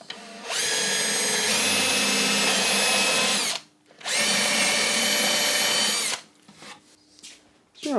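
A power drill bores into wood while building a folding camping table, running in two long steady bursts with a brief stop between, then winding down, close and loud with no talk.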